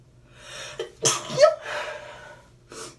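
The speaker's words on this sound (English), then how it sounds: "I have to sneeze." A single sharp sneeze bursts out after a quick inhale, followed by a short breath, close and fairly loud in a quiet room.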